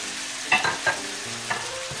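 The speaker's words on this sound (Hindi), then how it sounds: "हम पोटैटो भुनेंगे" Potatoes frying in a pan, a constant close sizzle with a few brief scraping stirs and light clinks of a spatula against the metal.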